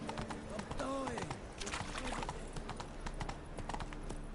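Geralt's horse Roach gallops in The Witcher video game, a steady run of hoof clip-clops carrying through the whole stretch, with a voice and a brief whinny-like tone early on.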